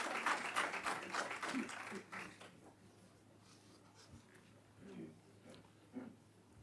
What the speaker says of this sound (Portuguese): que batem palmas, depois não se ouve